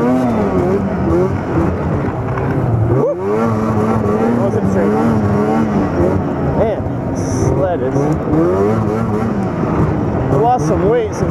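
A snowmobile engine revs and accelerates along a trail, loud and close with rising and falling pitch throughout, while a rider talks over it.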